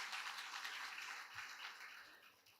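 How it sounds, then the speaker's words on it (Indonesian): Audience applause at the opening session of a business forum in Kota Batu, a faint, steady patter of many hands clapping from a distance, slowly thinning toward the end. "Terima kasih, kita kasih aplaus beliau."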